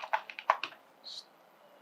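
Close, crisp clicks from a computer keyboard as text is typed into embroidery design software: a quick run of keystrokes, a pause, then one more tap.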